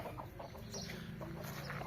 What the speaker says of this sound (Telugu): ఈ పుంజ మనం పట్టుకోవాల్సింది